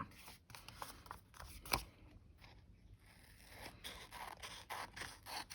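Quiet snipping and scraping of scissors cutting paper, a series of short crisp cuts with light rustling in between.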